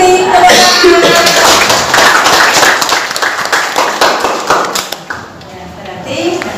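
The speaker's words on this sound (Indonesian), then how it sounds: "Diberi tepuk tangan." Classroom students clap their hands in a burst of quick, overlapping claps, close by, with voices talking over and around them.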